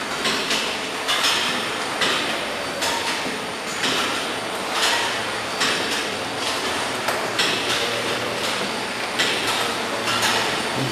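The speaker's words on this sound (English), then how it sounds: "It's a peck puller." A peck puller machine on a Poultry Tech evisceration Maestro line runs in a poultry processing plant, giving a loud, continuous mechanical clatter with a steady rhythm of repeated knocks and clanks, heard alone without talk.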